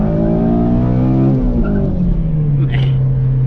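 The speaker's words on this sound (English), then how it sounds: "I wish I could have revved it out" An 8th-generation Honda Civic Si engine revs high nearby, then the pitch drops as the driver shifts and eases off, a loud continuous roar throughout.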